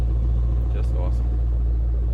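A 1969 Chevelle SS 396 with its original motor idles with a deep, steady low rumble, close and constant, while a brief voice sounds faintly over it.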